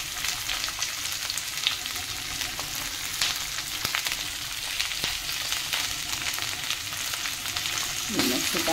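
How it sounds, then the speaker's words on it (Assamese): Jackfruit seeds and fiddlehead fern fry in hot oil, a loud steady sizzle with occasional stirring clinks and scrapes throughout, no one speaking. "ঢেকীয়া কঁঠাল গুটি আকৌ সেইটোত ভাজিবলৈ লৈছোঁ"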